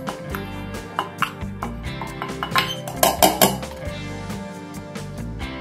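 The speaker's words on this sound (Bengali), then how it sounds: "এবার এগুলো একটা মিক্সিং জারের মধ্যে দিয়ে দিচ্ছি" Soaked ingredients are tipped into a steel mixing jar, giving a run of close metallic clinks and clatters that cluster into a busier rattle midway, with no talking.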